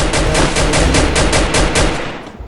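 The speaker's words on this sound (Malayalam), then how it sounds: "ബാക്കിൽ നിന്ന് വെടി വയ്ക്കുന്നതന്നെ അത് കേട്ടില്ലേ" Rapid automatic gunfire from the Free Fire mobile battle royale game, a loud burst of about a dozen evenly spaced shots in quick succession, tailing off at the end with no talking.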